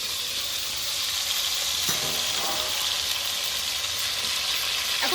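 Rita fish fry in hot oil, a constant dense crackling sizzle close up, with occasional clinks of stirring or turning the pieces.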